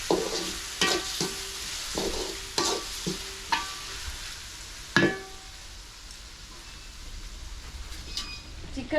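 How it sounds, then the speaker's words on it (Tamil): Green chillies and onions, with tomato and ginger-garlic paste, sauté and sizzle in a pan for a Tamil-style chicken fry. A spoon scrapes and clacks against the pan in an irregular rhythm over a steady close hiss, with no talking. "பச்சை மிளகாலாம் இப்போ வந்து வதங்கிட்டு இருக்கு."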